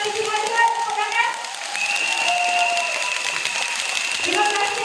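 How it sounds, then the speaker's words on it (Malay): Audience clapping at an award ceremony, a steady wash of applause running the full length, with tonal music or voices over it. "Tepuk tangan."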